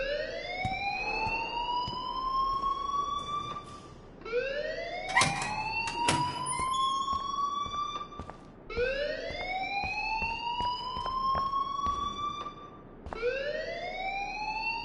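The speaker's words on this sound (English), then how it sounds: "please turn off that alarm since that's your job" Alarm in the video game Life is Strange, a rising wailing siren-like tone that sweeps upward repeatedly in long cycles, loud and continuous with no talking.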